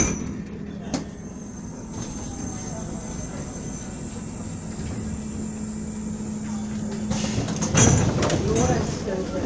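A Nuremberg U-Bahn DT1 subway train hums and rumbles at a platform with a steady motor whine, while a recorded station announcement plays over it and louder clatter rises near the end.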